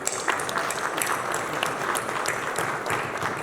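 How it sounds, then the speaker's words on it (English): An audience at the 2022 Uganda Tourism Trade and Investment Forum in Dubai claps steadily for the Ugandan diaspora, a dense, sustained round of applause with no pauses. "I want to be the one to clap for you"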